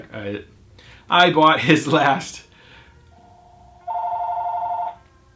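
A telephone rings indoors with a steady electronic tone lasting about a second, following a stretch of a man's speech and a short softer lead-in tone.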